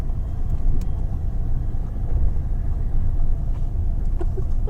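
A Mahindra XUV700 drives along with a steady low engine and road rumble throughout, heard from inside the car with no talking.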